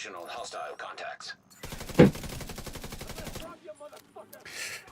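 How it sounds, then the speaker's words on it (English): Rapid, dense crackling bursts of fireworks outside during a video game recording session, a sustained volley of sharp pops with one louder bang, fairly loud and set between stretches of quieter game sounds. "the fireworks definitely already going"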